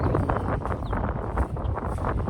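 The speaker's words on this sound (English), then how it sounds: "As you can see, it's kind of windy out here today," Steady wind roars and buffets across the microphone outdoors, a constant rushing noise with no clear pauses.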